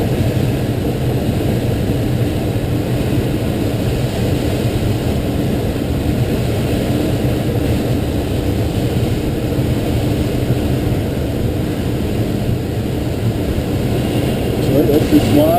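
A light aircraft circles in flight, its engine and propeller making a steady, continuous drone with broadband wind rush that stays loud and even throughout.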